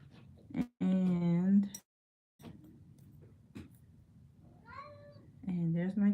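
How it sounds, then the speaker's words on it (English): A pet cat meows loudly several times up close, drawn-out calls with gaps of quiet and light handling noise between them. "And there's my cat."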